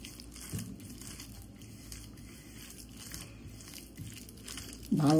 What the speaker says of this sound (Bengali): ভালো করে আমি মেখে নেব, একদম ভর্তার মতন করে।